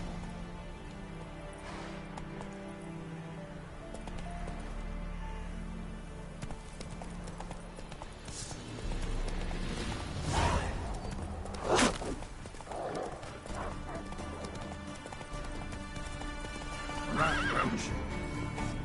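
Geralt's horse Roach in The Witcher 3 gallops with rapid, close hoofbeats and lets out loud neighs and whinnies at intervals over game ambience, no talk.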